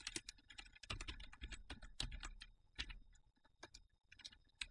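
Quick bursts of clicky keystrokes on a computer keyboard during Blender work, close and crisp, in uneven runs with short pauses and no speech.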